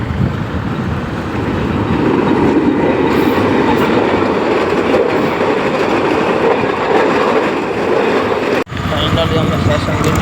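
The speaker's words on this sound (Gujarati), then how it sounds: "ફાટક આડું આવ્યું છે તો ટ્રેન આવે છે તો રાહ જોઈને ઊભા છીએ મિત્રો।" A train rolls past a railway level crossing at close range, its loud, continuous rumble and wheel clatter filling the scene while faint voices of waiting people murmur underneath.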